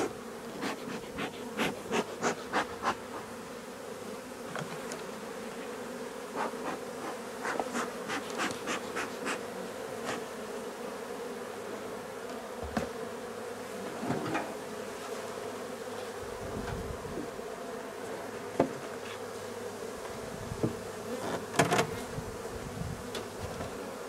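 Honeybees hum steadily around an opened drone-laying hive with most of its frames removed, with individual bees buzzing close past at intervals over a constant background drone.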